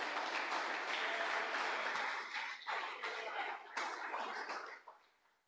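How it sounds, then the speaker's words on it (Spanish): A church congregation breaks into sustained applause for the Lord during a sermon, a dense wash of many hands clapping steadily for several seconds before thinning and fading out. "dale ese aplauso al Señor"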